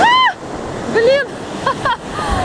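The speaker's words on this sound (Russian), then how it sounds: "вот это дала волна меня. Я вся мокрая." A stormy sea wave crashes onto the shore with a broad rushing roar and spray, while a woman nearby lets out loud startled exclamations over the noise.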